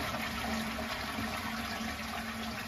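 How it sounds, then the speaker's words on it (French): A toilet cistern is flushed and emptied for repair work, producing a steady close rush of draining water with a constant tonal hum throughout, no voices. "On vide la chasse d'eau, c'est plus pratique que de mettre les mains dans l'eau."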